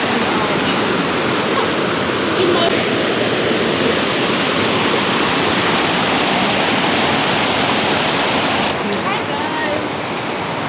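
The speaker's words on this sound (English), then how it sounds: "See how we have a waterfall" Small waterfall in an African village: steady, loud broadband rush of falling water filling the whole stretch, close by, with a few faint spoken words buried underneath.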